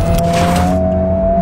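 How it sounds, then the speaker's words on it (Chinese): A Honda Civic Type R turbocharged engine, around 300 horsepower, revs hard near its 7000 rpm limit with a loud, steady high-pitched drone and a hint of tire noise, close and unbroken. "我太爱了这种转速到顶引擎哔哔哔的声音"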